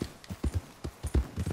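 Horse hooves clip-clop in Red Dead Redemption 2, a steady run of soft, low thuds at a trotting rhythm, close and moderately loud with no talk over them.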